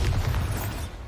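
A Bombarda spell explodes in Hogwarts Legacy, a single deep boom with a low rumble that fades over about a second.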